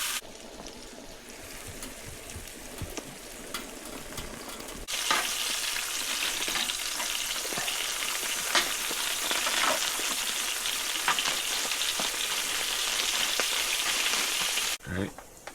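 Sausage and sauerkraut frying on a hot tent stove at a canoe camp, a loud, steady sizzle that rises sharply a few seconds in and holds close and constant, with occasional stirring and scraping.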